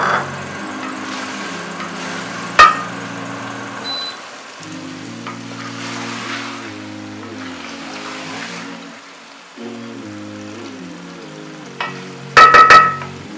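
Mutton karahi with fenugreek leaves being mixed in a pan, a low sizzle under scraping and stirring strokes, with a sharp knock early on and a burst of metallic clatter near the end.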